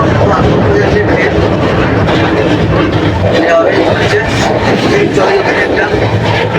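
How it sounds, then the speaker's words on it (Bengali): A superfast train runs from Howrah to Bardhaman, a loud, steady rumble with rattling carriages heard from on board, continuous throughout with faint voices mixed in. "আচ্ছা চলে যাচ্ছে ট্রেন"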